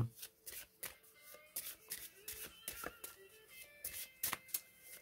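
A deck of oracle cards is shuffled by hand for a card reading, a rapid run of crisp riffling flutters and taps at close range, with brief pauses between bursts.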